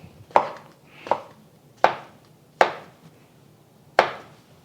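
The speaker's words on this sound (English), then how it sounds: "And we're just going to slice these." Mushrooms are sliced with a knife on a cutting board, five crisp separate chops at an uneven, unhurried pace, close and clear with no talk.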